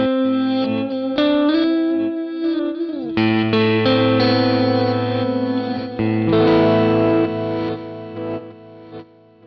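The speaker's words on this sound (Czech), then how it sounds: "reverse zase použití spíš do efektových záležitostí, kdy opakovaná část je obrácená," Guitar played through a TC Electronic Flashback delay pedal in reverse mode, with backward-swelling repeats smearing under sustained, lightly distorted chords and single notes, loud and continuous throughout with a washy, chorus-like shimmer.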